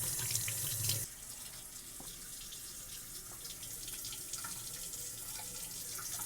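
A vintage Bratz doll's hair is rinsed under a running tap: water gushes loudly for a moment, then drops to a quieter, steady trickle and splashing close by.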